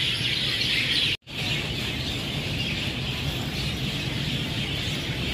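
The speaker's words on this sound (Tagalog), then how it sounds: "Ang daming ibon." Many birds chirp and tweet together in a steady outdoor chorus, with a constant bright twittering that is briefly cut off before it resumes.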